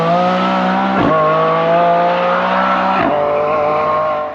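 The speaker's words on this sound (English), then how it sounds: "We are here to get our ears deafened by the sound of the Lamborghini supercar" A Lamborghini Revuelto supercar with a 6.5-liter V12 engine, loud and close, holding a steady high-pitched exhaust roar with two brief dips in revs, no talking.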